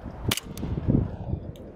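An airsoft 1911 CO2 pistol fires BBs into a target, a couple of sharp close pops with a quick spaced rhythm, followed by faint mechanical clatter and handling noise.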